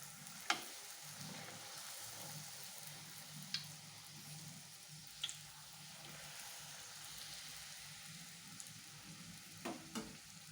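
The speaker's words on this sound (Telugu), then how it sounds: "ఇలా ఆయిల్ కాగినాక పూరి వేసి మనకు చేస్తే ఇలా పొంగుతుంది" Puri fries and puffs in hot oil with a soft, steady sizzle and a few sharp crackles or utensil taps, quiet and close with no talking.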